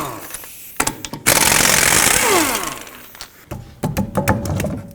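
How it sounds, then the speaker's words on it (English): A 19mm socket on a power tool spins lug nuts off a 2007-2009 Saturn Aura wheel, with sharp clicks and taps, a loud buzzing whir that winds down, then a rapid rattling burst. "just go ahead and take off the lug nuts with a 19mm"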